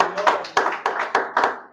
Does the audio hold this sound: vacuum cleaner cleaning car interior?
no